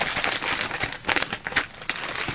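Sheets of scrapbook paper handled up close, crinkling and crackling in irregular bursts of sharp rustles with short pauses between.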